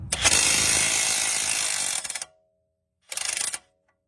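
A hand ratchet loosens a nut on the air strut of a 2014 Mercedes CLS 550 4matic, with a long run of rapid clicking, a pause, then a short second burst, close and alone.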